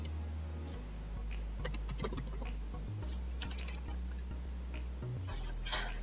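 Keys clatter in quiet, irregular bursts as someone types on a computer keyboard, soft taps scattered across a low steady hum, with a brief quick flurry midway and no one speaking.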